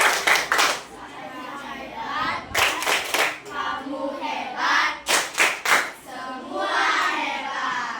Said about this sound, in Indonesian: silakan beri tepuk tangan, tepuk hebat dulu kepada kelompok 2